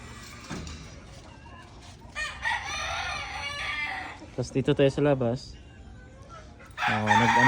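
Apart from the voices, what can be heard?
fighting roosters crowing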